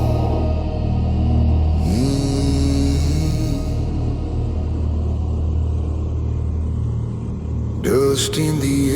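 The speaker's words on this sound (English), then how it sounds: "Wheels grind gravel, rattle through bone." Vehicle wheels on the gravel Dempster Highway give a loud, steady rumble and grinding roar throughout, with a rattling burst near the end, and engine noise is mixed into the continuous road din.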